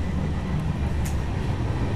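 Passenger train running on a journey through Telangana, heard from inside a coach as a steady low rumble of wheels and carriage noise, close and continuous.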